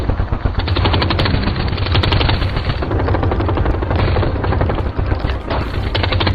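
Sustained rattling machine gun fire from a film robbery scene, loud and continuous with dense rapid shots throughout, no voices heard.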